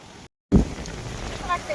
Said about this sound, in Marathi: वारं सुटले ना, खूपच वारं सुटले.